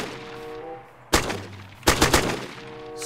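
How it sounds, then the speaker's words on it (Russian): A few loud gunshots in a Minecraft zombie apocalypse mod: a sharp single blast followed a moment later by a quick cluster of three shots, near and punchy over a quiet hum, with no talk. "Шок, он стреляет по мне!"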